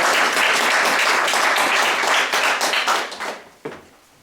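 Dense applause fills a selectmen's meeting in Madison, steady and close for several seconds, then thins out and fades, with one last isolated clap near the end.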